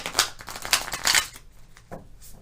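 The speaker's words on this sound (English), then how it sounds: "One more shuffle, 6 cards" Tarot cards shuffled by hand, a few quick riffling bursts close to the microphone followed by softer handling sounds as the deck settles.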